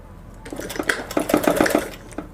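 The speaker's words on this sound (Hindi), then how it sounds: "यहाँ से हम सिलाई स्टार्ट कर देंगे।" A sewing machine stitches the seam of a girl's salwar in short bursts, its rapid mechanical whirring starting and stopping several times, close and fairly loud, with no talking.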